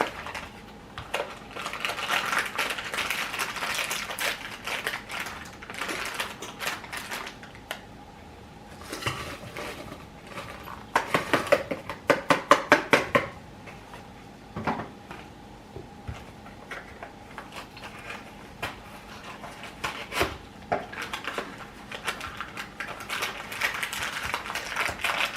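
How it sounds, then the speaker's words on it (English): Whisk rattling through dry Jiffy cornbread mix in a bowl, rapid scratchy clicking strokes in uneven bursts, with a brisk run of fast taps partway through, close and steady. "put that into my bowl and kind of get all the lumps and things out of it with my whisk"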